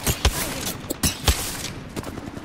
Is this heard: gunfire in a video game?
yes